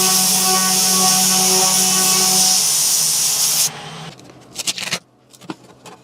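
Compressed air line blasting a loud, steady hiss at acrylic for several seconds, close up, then cutting off abruptly, followed by a few brief clicks and knocks in near quiet.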